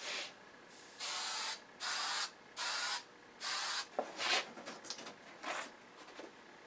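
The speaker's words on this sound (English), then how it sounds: "We're just going to hit it with a layer of 3M Super 77 adhesive." 3M Super 77 spray adhesive misted onto a sheet of sandpaper, five even hissing bursts of about half a second each, close and clear, followed by shorter, quieter, uneven sprays.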